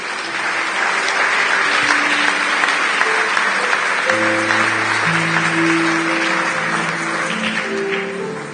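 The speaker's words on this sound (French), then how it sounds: "Acclamons le Seigneur pour eux." A church congregation applauds steadily and loudly throughout, with sustained crowd clapping while organ or keyboard chords play beneath.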